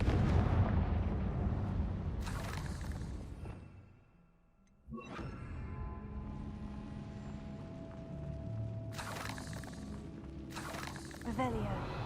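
A Confringo blasting curse in Hogwarts Legacy, booming explosions and crashing debris over game music, with a sudden blast after a brief lull and more rumbling impacts, while a voice speaks.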